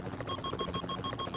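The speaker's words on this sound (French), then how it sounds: "C'est quoi ce bip bip?" A repeating electronic alert beep in the video game PUBG Mobile, sounding in quick, regular pulses over a busy background of game noise.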